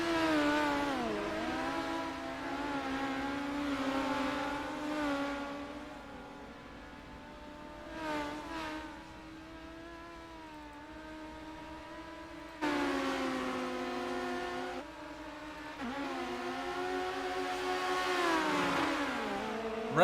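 Midget race cars lapping a dirt oval at Volusia during a late-race stretch, their engines whining and rising and falling in pitch as cars sweep past, with a louder pass-by surging up partway through.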